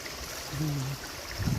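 Water rushes steadily at Abungan Falls in Dingalan, Aurora, a dense continuous roar close by that fills the brief moment.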